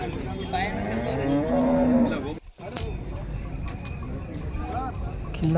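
A cow gives a long, loud moo close by at a livestock show in Pusad, followed by a brief lull over outdoor noise, then another moo begins.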